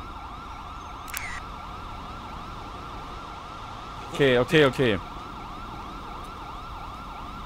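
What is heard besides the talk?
siren from the video game GTA 5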